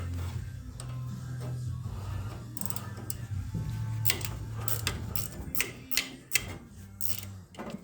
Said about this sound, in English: Need a ratcheting wrench.